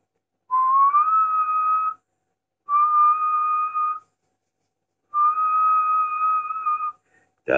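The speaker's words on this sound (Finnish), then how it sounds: "Nyt tulee vihellys, valmistautukaa." A person whistles a steady test tone over a 20 m amateur radio link, three sustained whistles of about one to one and a half seconds each, separated by pauses, clear and fairly loud with a brief click at the end.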